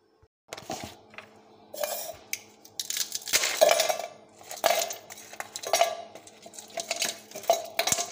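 Ice cubes taken from a freezer clatter into a large box in a series of hard clinking, rattling bursts that come close and loud, one after another with short pauses, no talk.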